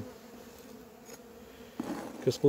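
Honeybees buzzing faintly around an opened, divisible hive box during a small hive intervention, a soft drone that swells near the end with closer buzzing.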